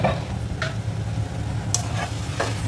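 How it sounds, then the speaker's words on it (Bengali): Water goes into a sizzling pav bhaji mixture in a pan, giving a soft steady sizzle with a few brief bursts of splash and stirring scrapes, close and without talk. "এবার এতে একটু জল দিয়ে দেবো।"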